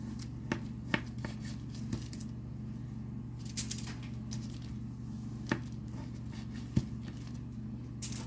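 Knife slicing through rolled sausage and cream cheese pinwheel dough, a handful of soft, sharp cuts at irregular intervals over a low steady hum.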